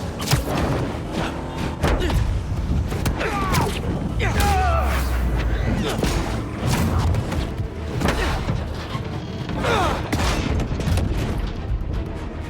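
Gunfire and booms in the Spider-Man 2 video game, with dense thuds and blasts over continuous action noise while voices talk throughout.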